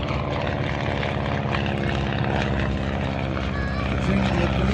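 A propeller training airplane drones steadily at a flying circus, its engine a loud, continuous hum with a slight rise near the end; voices talk faintly underneath.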